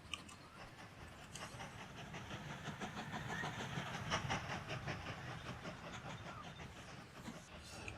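Two trains run on one rail line in the Mashinky rail tycoon game, a steady faint rolling rumble with soft rhythmic clicking of wheels over the track.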